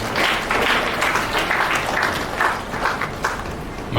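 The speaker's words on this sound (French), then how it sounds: "pourriez-vous accepter ce merci par vos applaudissements" A funeral ceremony audience applauds in a steady wash of clapping that lasts a few seconds at moderate level and fades gently toward the end.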